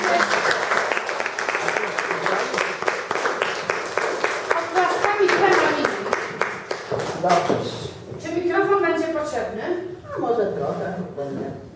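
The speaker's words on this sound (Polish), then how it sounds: "Oklaskami, kochani." An audience at a village dialect-speaking contest in Rudniki bursts into dense, steady applause for several seconds, then the clapping fades as people begin talking.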